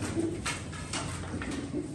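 Pigeons coo close by in a few soft, low, repeated calls, with no voices.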